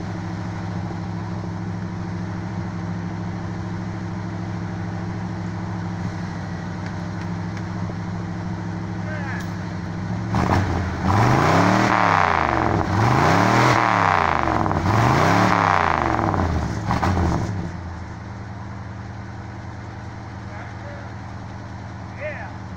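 A car engine idles roughly after a cold start in snow, then revs up and down three times in quick succession before settling back to a steady idle.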